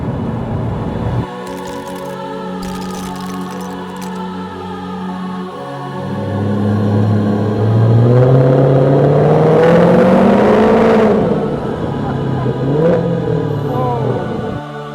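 A 2009 Maserati Quattroporte Sport GTS engine revs hard from inside the car, its tone rising and climbing toward redline, then falling back, loud and sustained, with some cabin noise and no talk.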